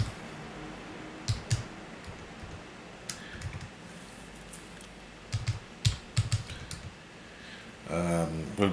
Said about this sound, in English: I'm just going to just type them in